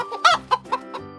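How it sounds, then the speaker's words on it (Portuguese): A chicken clucking close up, four or five short, sharp clucks in quick succession over about a second, loud and clear with nothing else behind them. "Essa aqui é a galinha."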